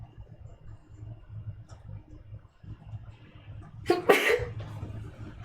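A single close, forceful sneeze bursts out near the end over a low background rumble, with no talking.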